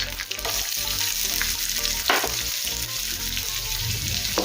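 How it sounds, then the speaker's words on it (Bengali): Chopped onion fries in a pan with torn curry leaves, giving a steady, close sizzle broken by the scrape and clatter of stirring throughout. "হালকা করে পেঁয়াজটা ভেজে নেব।"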